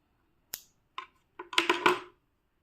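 Scissors snip crochet thread while a pair of socks is being crocheted: a few sharp, separate clicks, then a quicker cluster of snips, close and clear with no talking.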